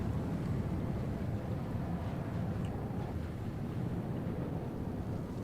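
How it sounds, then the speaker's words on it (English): Gusts of wind in the SWTOR video game: a steady, loud low rushing roar blowing without pause. "Gusts of wind are hindering your speed."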